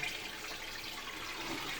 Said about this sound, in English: It's got that deluxe flushing feature.